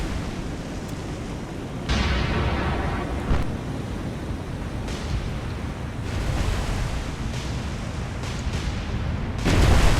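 Warship guns auto-fire in the naval video game War on the Sea, heavy booms breaking in at intervals, around every few seconds, over a steady roar of sea and wind, with the last blast loudest.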